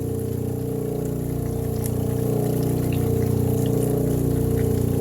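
Jade stone domed against a spinning lapidary wheel, a steady continuous motor hum and watery grinding drone with slow low pulses, close and unbroken throughout, no talking.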